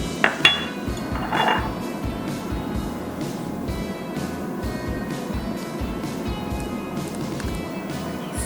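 Small pot being handled as gochujang, salt, sugar and garlic go in for a Korean fried chicken sauce: a few sharp clinks of metal and utensil early on, then a steady low background hum.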